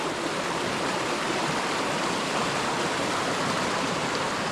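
A creek in a wooded area rushes steadily in a dense, close wash of flowing water that holds an even level from start to finish, with no other sounds.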